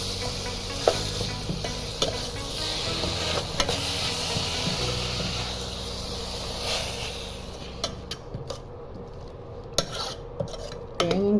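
A spoon scrapes and stirs food with grated coconut in a frying pan, with a steady sizzle underneath and occasional metallic clinks and taps against the pan.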